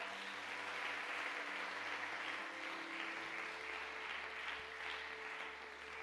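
A church congregation applauding, a steady wash of clapping heard from a distance and quiet, with a low hum running underneath.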